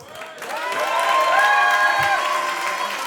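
Audience at the Jamel Comedy Club in Paris breaks into applause and cheering, a swelling crowd with whoops and shouts rising over continuous clapping, loud and close.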